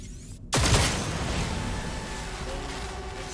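A single sharp gunshot in the Cyberpunk 2077 video game, a close loud crack half a second in followed by a long reverberant tail and lingering ambience.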